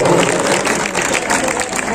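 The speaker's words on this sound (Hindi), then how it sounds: "एक बार जोरदार तालियों से अभिनंदन हो" A crowd applauds a female bhajan singer at a devotional Shyam Baba gathering, with loud, dense, continuous clapping that fills the space throughout.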